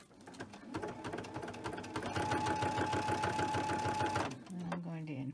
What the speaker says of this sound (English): Let me get you a little closer as I stitch it